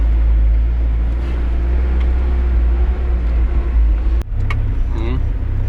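A GAZelle van heads down the road toward Druzhkivka with a loud, continuous low engine and road rumble filling the cabin, dipping briefly once before carrying on.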